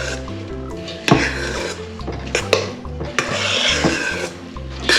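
Oats are stirred into cream in a bowl, making repeated close scraping and rubbing strokes with occasional sharp clinks of a utensil against the dish.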